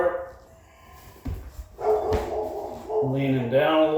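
Dogs bark and yip at a middling distance in a home, starting faint and growing louder, mixed with a couple of knocks and some talking.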